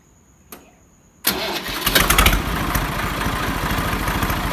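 A 1994 Swaraj 735 FE tractor diesel engine cranks with a brief click, then fires up loudly at once and settles into a steady, close, rumbling idle with no voices.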